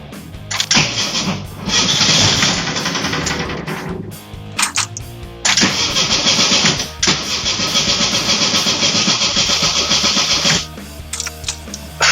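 A vintage Volkswagen Mexican Beetle engine cranks and catches, loud and close, in several long grinding cranking bursts broken by short pauses as it struggles to start.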